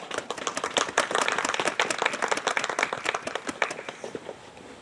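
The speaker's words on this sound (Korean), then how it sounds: "큰 연대 박수 부탁드립니다." Audience at an outdoor worship rally in Dongducheen claps in solidarity to welcome an activist speaker, a dense run of sharp hand claps that thins toward the end.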